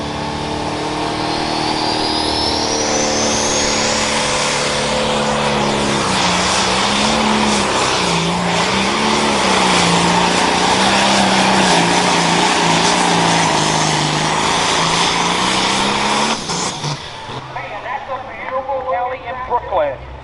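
A limited pro stock pulling tractor at a truck and tractor pull at the Hartford Fair roars loud and sustained for about seventeen seconds, its engine pitch wavering and climbing. Then it cuts away, leaving crowd noise, and an announcer talks over the run.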